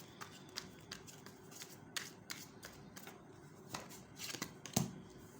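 Tarot cards being shuffled by hand, a run of soft riffling flutters and taps close up at a quiet level, with one sharper snap near the end; no one speaks.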